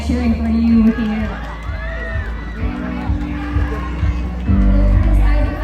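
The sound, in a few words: supporters cheering at beauty pageant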